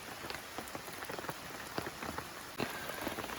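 Pouring rain on a rainy day in Maine, a dense, steady patter of drops close by, with sharp, louder splats scattered through it and one heavier hit near the end.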